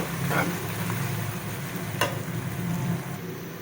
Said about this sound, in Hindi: ये हमारा अदरक लहसुन और प्याज लाइट ब्राउन हो चुके हैं।